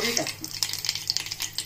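Mustard seeds drop into hot oil for a coconut chutney tempering, giving a quick run of small crackles and pops over a soft sizzle, close by and brief.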